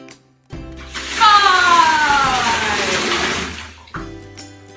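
Water pours steadily into a large 5-litre metal pot, a close, loud gush whose pitch rises as the pot fills, framed by brief clanks at the start and end.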